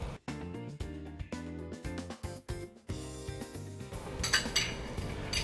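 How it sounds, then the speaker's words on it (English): A whisk beats batter in a mixing bowl, giving a steady run of close metallic clinks and scrapes against the bowl with no talking. "then just do 1 final whisk just to make sure that everything is nice and combined and mixed well"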